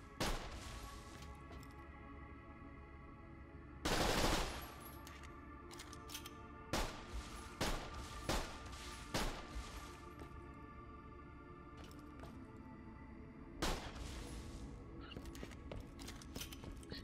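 Dahl pistol gunfire in Borderlands The Pre-Sequel, a string of sharp shots fired at irregular intervals with a loud burst near the start, over faint background hum and sparse voice.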